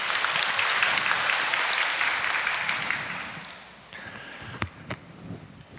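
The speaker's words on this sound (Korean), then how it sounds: "박수로." Audience applause at a church gathering welcoming a couple to the front, steady warm clapping for about three seconds that tapers off, followed by a few isolated knocks and thumps.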